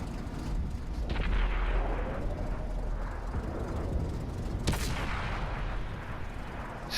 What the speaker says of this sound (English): See the shots coming in from artillery and from some of the other tanks behind me.